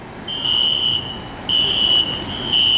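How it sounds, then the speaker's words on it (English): A building's fire alarm sounds as a loud, steady electronic tone in long blasts with brief breaks between them. No one speaks over it. "Who pulled the fire alarms?"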